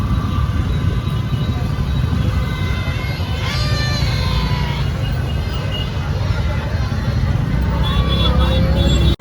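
Dense road traffic rumbles continuously, engines and tyres filling the air, with a crowd's chatter and occasional shouts mixed in, near the Khairatabad Ganesh festival in Hyderabad.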